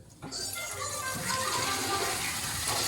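Soapy water left from scrubbing a white shag rug is poured out, a steady close gushing splash that starts abruptly and keeps flowing at an even level.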